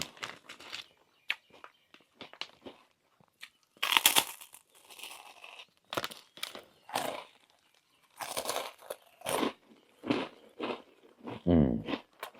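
Crispy Thai rice crackers (khao taen) being bitten and chewed close up, a series of sharp crunches with gaps between, then a burst of denser crunching and crinkling toward the end, loud against a quiet background.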